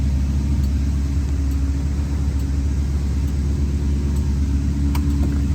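A 1965 Ford Mustang engine runs after starting, a loud, steady low rumble holding an even throbbing note from start to finish, with no talking over it.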